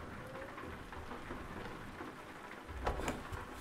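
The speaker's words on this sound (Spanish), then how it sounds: "Yo lo dejo aquí con el sonido de la lluvia" Rain falls steadily as a soft, even hiss with patter on surfaces, heard alone at low level, with a slightly louder rumble or splash near the end.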